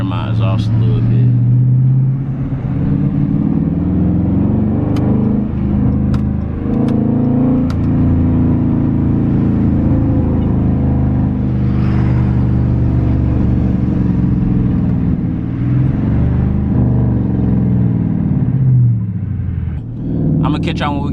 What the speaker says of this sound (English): I'm gonna want to hear my exhaust a little bit